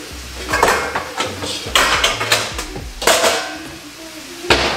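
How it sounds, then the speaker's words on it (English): Dishes and bowls clattering and clinking as a bowl is picked out from among them in a home kitchen, a run of sharp, close knocks and rattles with short pauses between. "I'm gonna grab a bowl."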